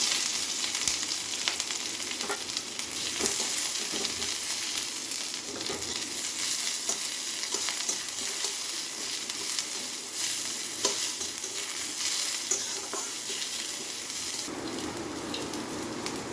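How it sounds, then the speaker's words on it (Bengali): Onion and chilli fry in a little oil, giving a dense, even sizzle that stays close and continuous, with soft stirring scrapes now and then. "আমি এখন সামান্য তেল দিয়ে পেঁয়াজটা লঙ্কাটা ভেজে নেব।"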